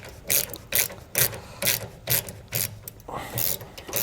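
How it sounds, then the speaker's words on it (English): A ratchet wrench clicks in about nine regular strokes while tightening a nylock nut onto a swivel hex bolt of a jack stabilizer kit on a 2022 Jayco Jay Feather trailer, close and alone. "I'm going to place on the flat washer on the back, our nylock nut, and I'll go ahead and tighten that down"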